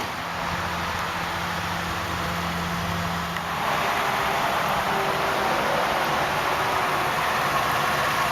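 A 1995 Lexus LS400 idles with a smooth, quiet, steady engine hum under broad hiss, with a slight shift partway through and no talk.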